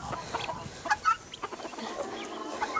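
Backyard guinea hens give repeated choppy, raspy calls close by, with farm-fowl clucking around them and a few sharp peaks of sound.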